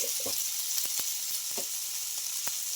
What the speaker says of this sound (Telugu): ఇవన్నీ వేసుకొని బాగా ఫ్రై చేసుకోవాలి